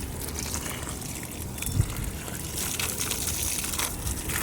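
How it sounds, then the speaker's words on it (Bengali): Water trickles steadily onto garden plants, with a hibiscus among them, a soft continuous flow close by with no talk over it. "গাছে জল দিয়ে দিচ্ছি"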